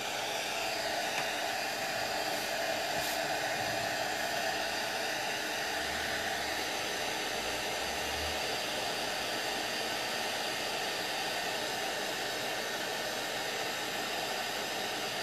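A hair dryer held at a distance blows in a constant, unbroken airy roar over wax-based bitumen on a rustic MDF coat rack.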